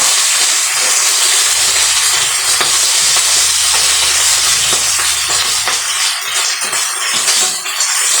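Dalagang bukid fish fry in hot oil in a pan with a loud, steady sizzle and hiss, broken by occasional crackles and pops, and nobody talks.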